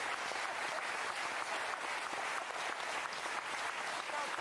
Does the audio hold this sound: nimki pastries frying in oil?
no